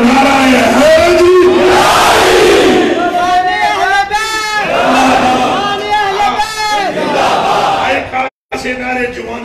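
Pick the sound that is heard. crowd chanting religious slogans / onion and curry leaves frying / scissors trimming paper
crowd chanting religious slogans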